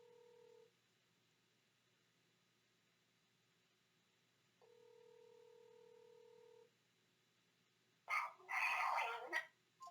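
Phone call placed to a sister, with a steady two-tone dialing and ringback pattern repeating in the quiet, then a burst of louder muffled voice at the end as the line connects.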